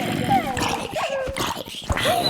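A dog in a zombie survival video game barks and yips in short bursts, close and fairly loud, under a busy mix of game sounds and someone talking excitedly.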